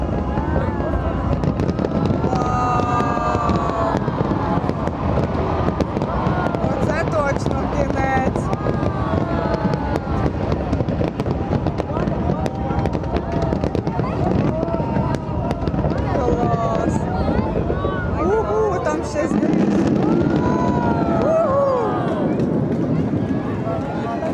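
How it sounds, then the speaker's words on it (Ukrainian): Fireworks burst near an airport in Vietnam, setting off a continuous crackle of distant explosions that runs steadily for the whole stretch, with people talking over it. "якраз в цій стороні аеропорт, де стріляють феєрверки"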